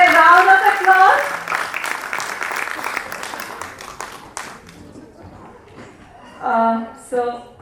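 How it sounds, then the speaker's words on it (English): Applause from an audience at a nursery school annual day function greets a speaker on stage, brief clapping mixed in with voices before fading, followed by a voice. "please welcome her with a round of applause"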